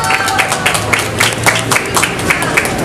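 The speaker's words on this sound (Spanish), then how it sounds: "Fuerte el aplauso, por favor" Crowd applause at a wine festival in León, steady clapping from many hands with faint rhythmic accents and background noise, continuous through the few seconds.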